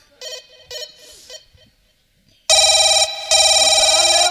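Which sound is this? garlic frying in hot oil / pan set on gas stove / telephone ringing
telephone ringing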